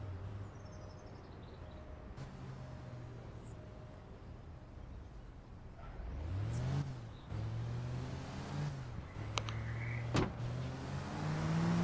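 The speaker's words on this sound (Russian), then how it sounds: "нифига себе эта тачка прыгает" A car engine revs and surges as the vehicle drives and jumps in the video game APB Reloaded, with sharp thumps of landings and rising whines as it accelerates, fairly loud over a steady engine drone.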